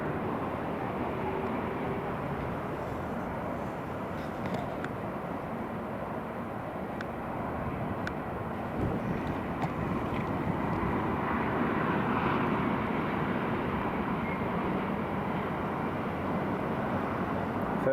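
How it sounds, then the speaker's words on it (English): Emirates Airbus A350 airliner arriving at Newcastle International Airport, a steady broadband jet roar that holds at a fairly constant level and swells slightly toward the end, heard from a distance with no talk. "the very first Emirates Airbus A350 coming into Newcastle International"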